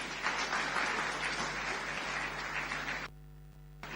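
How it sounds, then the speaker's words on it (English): Audience applause at a climate change summit in Lagos, a steady wash of clapping held for about three seconds before cutting off abruptly, with a low hum underneath. "Can we please give a round of applause?"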